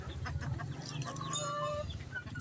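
Faint chirping and peeping of young Shamo chicks over a low rumbling background, several short calls overlapping.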